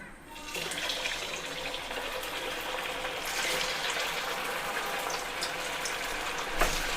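Poha, potato and cheese balls fry in hot oil with a steady, bubbling sizzle that swells midway and carries on through to the end, plus a faint clink near the close.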